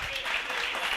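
Congregation clapping at a Tamil Sunday church service, a dense steady patter of hands filling the short moment at an even level.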